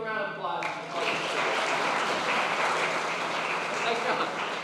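A round of audience applause at a community college Space Day event, beginning just after a speaking voice and building into steady, moderately loud clapping from a crowd.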